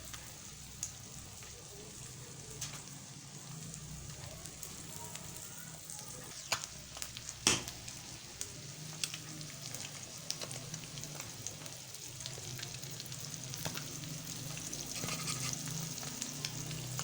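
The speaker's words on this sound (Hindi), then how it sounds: "हल्की आग पर पकेगा।" An egg fries in butter over low heat on a stovetop, giving a steady soft sizzle and crackle throughout with a few sharper pops, moderately close and without talk.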